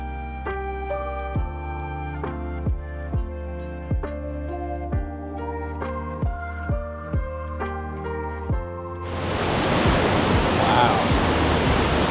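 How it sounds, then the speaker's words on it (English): A trail-side stream in Desolation Wilderness, swollen with water from the falls above, breaks in as a loud, steady rushing roar near the end, after a long stretch of gentle plucked music. "A lot of water right now."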